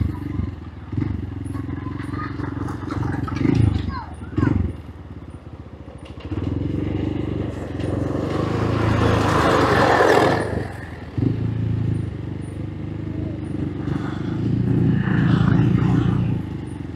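Motorcycle riding over a rough, uneven road in rural Rizal, engine droning steadily with bumps and clatter, rising into a louder roaring burst midway, close and continuous.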